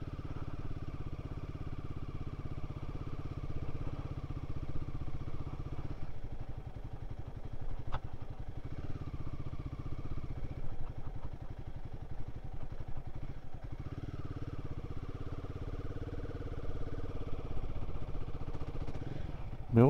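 Royal Enfield Guerrilla 450 motorcycle riding steadily with a continuous low engine drone and some clattering, its tone shifting briefly around a gear change, heard close and alone throughout.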